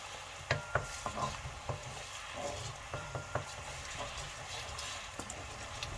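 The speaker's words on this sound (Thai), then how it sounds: "ผัดพริกแกงให้หอม" Curry paste stir-fries in a little oil, giving a continuous soft sizzle broken by repeated scraping clicks of a utensil against the pan, close and fairly quiet, with no talking.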